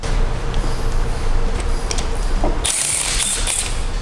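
Bracket bolts being removed from a hybrid car transmission in a workshop, with steady mechanical ratchet-like clicking and metallic working noise throughout, brightening into sharper high metallic rattling near the end.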